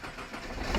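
Nissan GT-R engine turning over and catching, a low rumbling start that builds toward a steady idle near the end, fairly close and with no voices over it.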